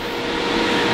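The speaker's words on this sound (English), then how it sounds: "the noise you're hearing is the cooling fans of the Rimac Concept 1" Cooling fans of a Rimac Concept 1 electric car running while it supercharges, a loud, steady broadband whoosh, close and unbroken throughout.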